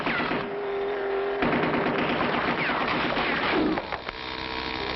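Rapid cartoon gunfire from a gun turret on a rocky road, a steady sustained burst of loud, dense shots with vehicle rumble beneath, alone without voices.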